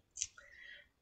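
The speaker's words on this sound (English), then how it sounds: "I'm just taking my little scissors here and I'm trimming off the excess" Small scissors snip through excess plastic trimmed from around a picture in a rustic farmhouse craft, giving one quiet crisp cut followed by a faint soft slide, close and alone.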